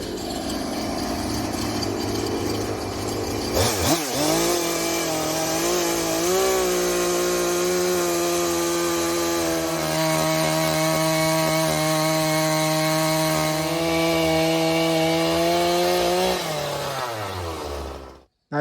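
A simple chainsaw mill with a guide rail saws lengthwise through a log into timber. After a low idle rumble, the saw revs up into a loud, steady, loaded whine that holds for about fourteen seconds before cutting off.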